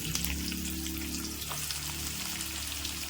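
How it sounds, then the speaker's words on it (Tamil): Onions sizzle and crackle steadily in a hot pan for Karnataka-style chitranna, a continuous close frying hiss with no voices. "நம்ம இப்போ வெங்காயம் போட்டுக்கலாம்."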